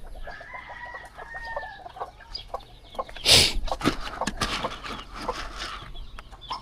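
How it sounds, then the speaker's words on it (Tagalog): Chickens being fed cluck repeatedly at close range in a busy, overlapping chorus, with one sharp, louder squawk or flurry partway through. "kailangan natin pakainin yung mga manok"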